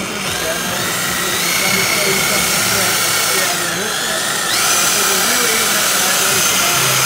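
Lake Country UDOS 51e in 21 mm mode running at speed one, a steady close motor whine with a slight shift in pitch partway through.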